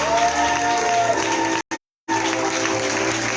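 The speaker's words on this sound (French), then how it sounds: "Acclamons, apprécions le temps des acclamations." Conference audience in a plenary hall clapping and cheering, a loud dense burst of applause with a faint tonal hum beneath, briefly cut out midway before resuming.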